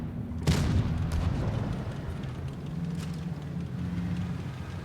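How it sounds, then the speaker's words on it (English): AMX 12T tank cannon firing in World of Tanks, one sharp close boom that rumbles away over a steady low engine drone, with no speech. "I'm shooting them through the bush."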